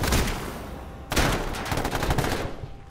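Rapid gunfire rings out in the battle royale video game H1Z1. Loud bursts of shots come close together, with a sharp new volley starting about a second in and continuing steadily, with no talking over it.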